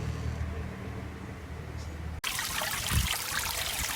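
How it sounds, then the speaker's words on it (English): Water trickling from a small garden water feature beside a little Japanese maple, a steady continuous burble that grows busier and louder partway through, with no talking. "Well, here we got a water feature."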